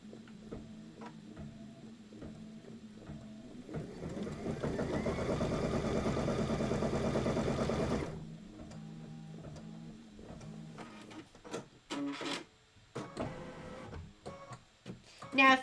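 Amid scattered clicks and handling noises, an embroidery machine stitching Kimberbell quilting runs in a steady mechanical hum for about four seconds, then falls quiet before more sharp taps.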